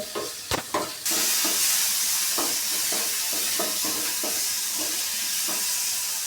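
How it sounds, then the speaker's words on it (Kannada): Tomato, coriander leaves and green chillies frying in a pan for a milk sambar, a dense steady sizzle with repeated stirring scrapes after a few sharp knocks at the start, nearby and loud, no talk. "ನೋಡಿ ಟೊಮೊಟೊ ಫ್ರೈ ಆಗ್ತಾಯಿದೆ ಕೊತ್ತಂಬರಿ ಸೊಪ್ಪು ಹಸಿಮೆಣಸಿನ್ಕಾಯಿ ಫ್ರೈ ಆಗಿದೆ"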